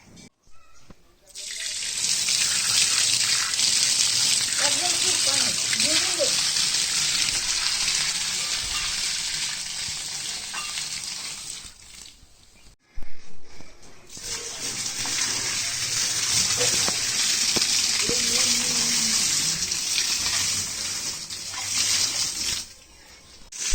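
Water sprinkled and splashed over a traditional earthen floor being laid in a Kokan village house: a steady, close, hissing patter in two long spells separated by a brief pause, with a faint voice murmuring underneath.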